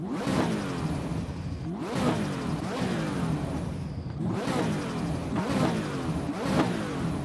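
Engine in the Assetto Corsa EVO racing game revving up and down in repeated bursts, with rising and falling sweeps every second or so, heard from outside the car with faint pops between revs.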